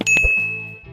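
A bright notification bell dings once, ringing out with a long sustained tone while a few soft low knocks sit underneath, close and clear.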